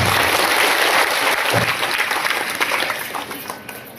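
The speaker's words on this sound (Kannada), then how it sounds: "ನಿಮ್ಮೆಲ್ಲರ ಪರವಾಗಿ ಜೋರು ಚಪ್ಪಾಳೆಯೊಂದಿಗೆ ಸ್ವಾಗತ" An audience at a public event applauding to welcome an arriving official, a dense burst of many hands clapping that slowly tapers off over a few seconds.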